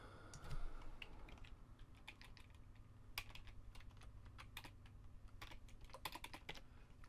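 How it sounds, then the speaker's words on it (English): Quiet, irregular clicking of fingers typing on a computer keyboard, scattered keystrokes in short bursts over a low background hum, with no talking. "rubbish typing."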